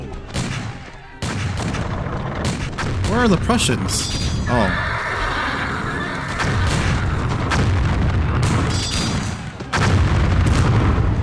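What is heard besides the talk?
cannon artillery fire, from a video game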